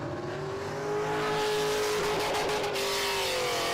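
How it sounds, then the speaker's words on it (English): At a live-streamed hill climb with muscle cars, a race car's engine screams hard against its rev limiter in turn one, a loud sustained high-pitched wail that stutters and chops near its peak, heard from trackside at moderate distance with no voices. "Beating that rev limiter senseless in turn one."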